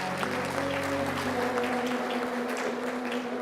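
An audience at the World Geothermal Congress 2026 closing ceremony applauds steadily, with dense, even clapping that fills the hall over sustained background music.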